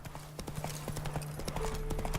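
Horse hooves clip-clopping as the horse Roach trots along a road in the video game Witcher 3, a quick steady run of distinct hoof strikes with a faint tone underneath, close and clear.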